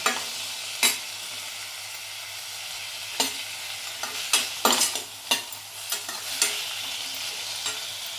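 Tomato kurma ingredients sizzle softly in a pan while a spoon scrapes and stirs in irregular bursts, close by and fairly quiet.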